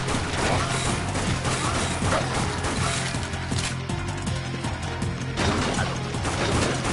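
Rifle fire in the zombie shooter Dead Nation rattles in a dense, continuous barrage of loud shots layered over mechanical clatter and game noise.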